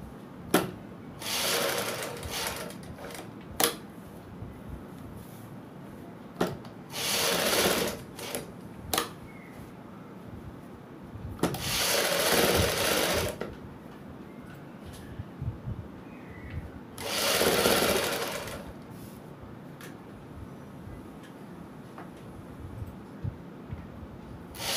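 Sewing machine stitching a patti onto an angrakha-style suit, running in several short bursts of rapid mechanical whirring and clatter separated by pauses and small clicks, close and clear with no talking.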